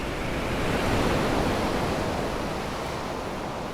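Rough sea surf on a stormy day in Brighton, a continuous loud broadband roar of breaking waves and wind with no distinct individual crashes and no voices.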